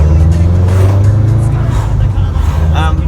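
A loud car exhaust rumbles steadily as the vehicle drives, deep and continuous, close to the listener with a faint voice underneath.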